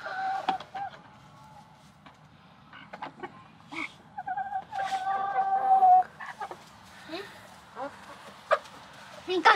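Chickens cluck and squawk in a newly built backyard coop, close and intermittent, while people talk quietly nearby.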